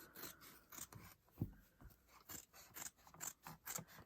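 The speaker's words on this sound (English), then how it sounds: "get yourself a good pair of fabric scissors, so it just makes things easier" Fabric scissors cut through felt in a quiet, close series of short snipping and rasping strokes, repeating in an uneven rhythm with nobody talking.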